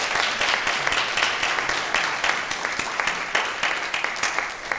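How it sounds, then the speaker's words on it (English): An audience at a conservation community event gives a sustained round of applause, dense steady clapping, fairly close, with no talk over it. "let's give her a big round of applause"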